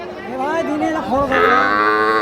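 Young heifer calves at a Bangladeshi cattle market moo loudly and close by, a drawn-out bellow rising into a second, stronger call, with faint background noise and no clear talk.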